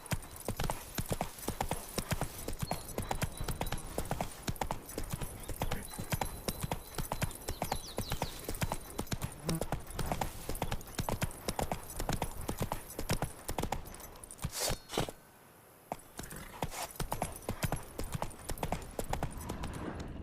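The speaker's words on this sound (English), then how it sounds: "Whoa there, Roach" Horse hooves galloping in The Witcher 3: Wild Hunt, a dense, fast clip-clop rhythm pounding steadily for about twenty seconds, with a brief pause partway through and a short whinny.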